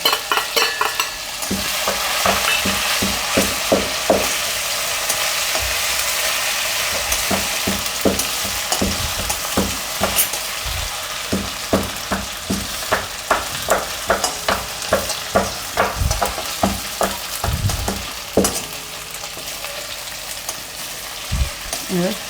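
Ginger, green chili and garlic fry in hot oil in a pan for a Gujarati urad dal, a steady close sizzle broken by frequent scraping stirs of a spoon against the metal.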